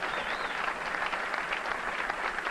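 A capacity crowd at a 1990 professional bowling tournament applauds a good shot, with dense, steady clapping that fills the hall for the whole stretch.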